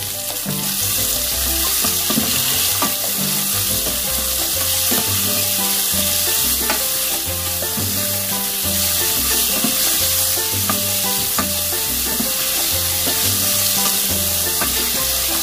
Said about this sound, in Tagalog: So, ilagay na natin yung ating sliced tomato.